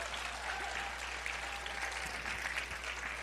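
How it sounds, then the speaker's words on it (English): Museum audience applauding space shuttle astronauts, a fairly quiet but continuous spread of clapping from the crowd with a low steady hum beneath it. "So, everyone, you can give a round of applause for those guys."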